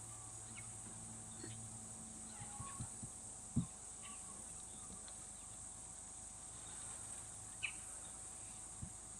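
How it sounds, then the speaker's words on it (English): A steady, shrill buzzing drone of cicadas at a waterhole fills the background, continuous and fairly loud, with a few faint knocks and distant chirps. "Also hear those cicadas in the background making quite a noise"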